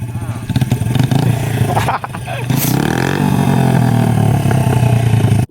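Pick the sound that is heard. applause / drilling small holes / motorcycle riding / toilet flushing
motorcycle riding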